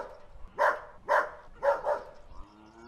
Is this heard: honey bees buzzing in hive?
no